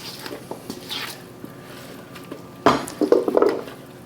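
A utensil scrapes and pushes food across a cast iron pan, soft muffled strokes building to a louder burst of squishing, clattering scrapes near the end, close by.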